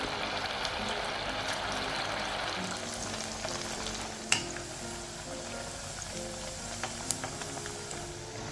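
Poha vadas fry in hot oil with a steady bubbling sizzle that carries on throughout, broken by a few sharp ticks and clinks of a utensil, close by and moderately loud with no voices.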